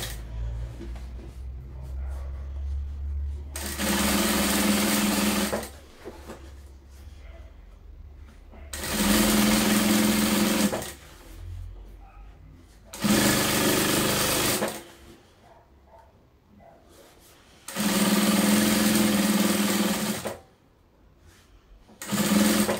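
A sewing machine topstitches a patchwork table runner in five loud, even bursts of rapid stitching, separated by quiet pauses with faint handling sounds.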